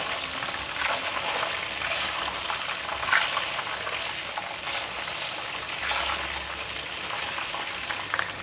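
Shimeji mushrooms deep frying in hot oil, a steady dense crackling sizzle that carries close and fairly loud for the whole stretch, with faint stirring bumps and no voices.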